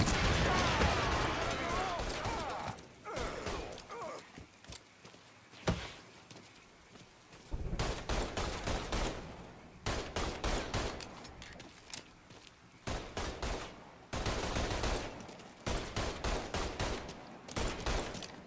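Gunfire in the video game Mafia III, with dense bursts of shots and automatic weapon fire coming in volleys separated by brief lulls, loud and close, mixed with shouted in-game voices and crashing impacts.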